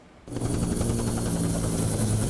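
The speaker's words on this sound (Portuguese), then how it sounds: "O helicóptero da Polícia Civil sobrevoa uma das comunidades de Duque de Caxias" A Polícia Civil helicopter flies over a community in Duque de Caxias, Baixada Fluminense, its rotor starting abruptly as a loud, steady, close whirring roar that holds without pause.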